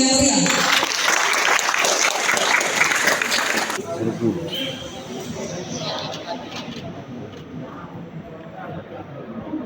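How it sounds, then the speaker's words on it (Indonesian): An award ceremony crowd claps for medal-winning athletes, with dense loud applause for about four seconds that then fades into murmured chatter and scattered claps. "Sekali lagi kita beri aplaus yang meriah."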